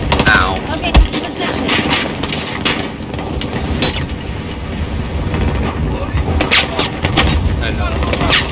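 Dense Battlefield 4 gunfire, with rapid automatic bursts and scattered shots crackling through continuous combat noise while players talk.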